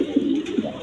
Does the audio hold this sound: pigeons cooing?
yes